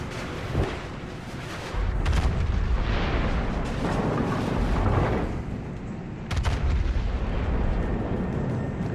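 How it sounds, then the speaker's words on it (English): Naval gunfire from the battleship Amagi in World of Warships: deep, rumbling artillery booms that swell into sustained roaring blasts, loud and close, with a sharp fresh salvo late on. "I'm hoping to get a few more shots here on the Amagi"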